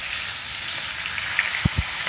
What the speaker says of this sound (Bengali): দেখো গাইস এখন মাথা ভাজা চলছে